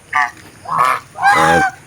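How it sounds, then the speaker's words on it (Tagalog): Three loud goose honks in a row, each a brassy nasal call, close by with short pauses between them. "Gansa, yan oh."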